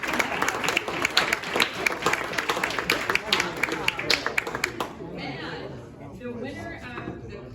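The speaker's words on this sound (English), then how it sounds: "So I think that in and of itself deserves a round of applause." A room of long-serving staff breaks into a full round of applause, dense overlapping clapping for about five seconds that then fades into murmured chatter and a voice.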